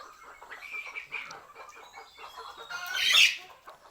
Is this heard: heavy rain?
no